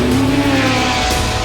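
Porsche 917 Longtail race car with a 4.9-liter, 600-horsepower flat-12 engine, a loud, steady, droning engine note held close throughout, with a slight shift near the end.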